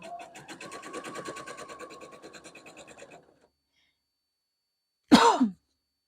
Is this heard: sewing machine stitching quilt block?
yes